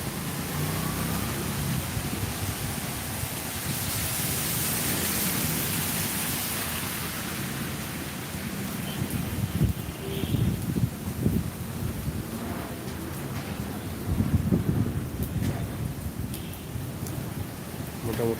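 A Kalbaishakhi storm in Sylhet pours heavy rain with gusting wind, a dense continuous roar that swells and surges in waves, with a few louder bursts later on.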